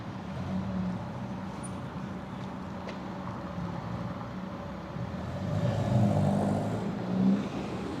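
A Ferrari passes on a Paris street in spring, its engine rising to a broad swell amid steady city traffic hum, moderately close and without talk.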